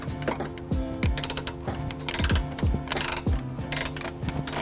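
A ratchet wrench tightens an 18 mm bolt on a trailer hitch being installed on a 2018 BMW X1, giving rapid clicking pawl runs in repeated back-and-forth strokes, close and crisp, with no talking.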